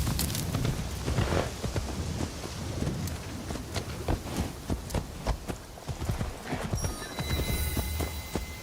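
A horse's hooves clip-clop in steady rhythmic strikes in the video game Assassin's Creed Shadows, with rain hissing underneath and no voices.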